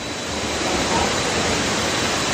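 Waterfall in the Cambodian jungle near a bat cave in Mondulkiri, a steady, loud broadband rush of falling water filling the whole stretch without pause.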